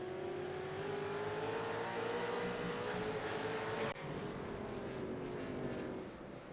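V8 supercars racing at Suzuka in a video game, a loud droning engine whine that rises in pitch as the cars pass and accelerate, steady and close throughout with no voices.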